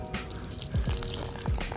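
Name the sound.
pouring liquid nutrients onto garden soil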